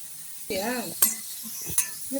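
Vegetables sautéing in a pan for fried rice give a brief stretch of sizzle with a couple of sharp clinks of a utensil against the pan, and a voice is heard briefly in between.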